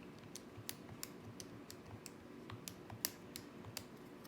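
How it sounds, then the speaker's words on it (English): Values are keyed into a calculator as a steady run of light, crisp button taps at an irregular pace, close up and quiet, with no talk over them. "we just type that all in at once"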